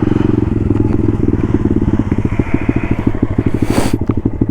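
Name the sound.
Honda Grom motorcycle engine revving out of gear in snow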